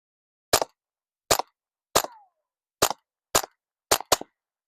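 Seven sharp, close rifle shots fired through a suppressor ring out at irregular intervals over a few seconds, the last two nearly back to back, with silence between them.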